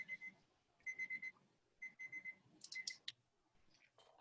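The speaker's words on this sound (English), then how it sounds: "And there goes my timer." A kitchen timer goes off while jars are heating in a steam canner, giving several bursts of rapid high electronic beeps separated by pauses, with soft kitchen noises between them.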